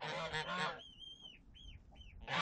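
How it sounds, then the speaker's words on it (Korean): Excited geese honking loudly in a farmyard beside a chicken coop, a burst of harsh overlapping calls, then a few shorter nasal honks, then another loud burst. "흥분한 거위들은 더욱더 소리를 지르고"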